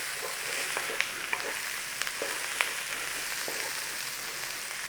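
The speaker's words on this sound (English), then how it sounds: "Clear yourself a space and get your garlic in there." Garlic frying in olive oil for a creamy potato and pea soup, a steady close sizzle with small stirring taps and scrapes throughout, heard alone.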